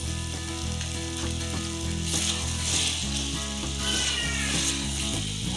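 Butter garlic chicken with soy sauce, vinegar and black pepper fries in a pan, giving a steady loud sizzle throughout, with a sustained tonal hum running beneath the frying and no speech.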